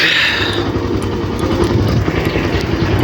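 A motorcycle engine rumbles steadily nearby, a continuous throaty drone with slight fluctuations throughout.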